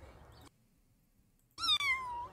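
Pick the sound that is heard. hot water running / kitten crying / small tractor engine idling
kitten crying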